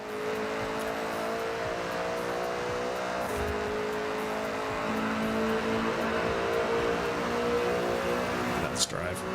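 A racing car in the video game Goliath drives along with a steady engine drone that shifts pitch as it accelerates, under a person talking, ending in a brief sharp impact.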